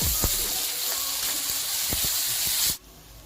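Tomatoes sauté in hot oil in a pan for a Maggi omelette, with a loud, steady sizzling hiss and occasional stirring knocks. The sizzle cuts off abruptly near the end.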